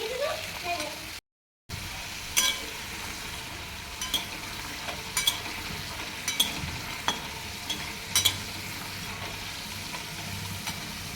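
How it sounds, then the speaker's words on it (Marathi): Frozen french fries deep-frying in hot oil make a steady sizzling hiss with scattered pops and clicks, and a voice talks over the frying. "संध्याकाळचा मी फ्रेंच फ्राय असं तळून घालवले मस्त असं हे क्रिस्पी झालेलं"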